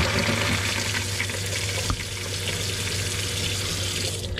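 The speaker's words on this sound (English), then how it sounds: "Once you hear that bubbling stop, that means that all the air has been purged out of the tank." Water rushing into an RV fresh-water tank while air purges, a steady loud hissing gush with a low gurgling hum and a brief thump midway, constant throughout.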